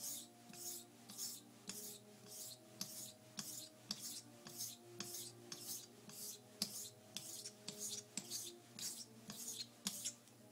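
A kamisori straight razor has its bevel set on a Japanese whetstone, giving a steady run of rhythmic scraping strokes back and forth, about two per second, close and moderately loud with no talk.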